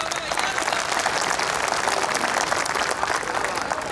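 Audience at a political rally applauds in a dense, even burst of clapping from many hands, loud and continuous for the full stretch, with no speech over it.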